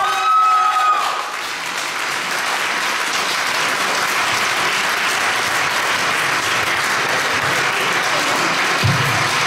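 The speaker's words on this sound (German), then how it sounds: "Großer Applaus noch für die Damen-Athletik-Klasse." Applause at a NABBA bodybuilding championship for the women's athletic class: sustained, loud crowd clapping filling the hall, preceded by a brief tone and a short lull before it swells steadily.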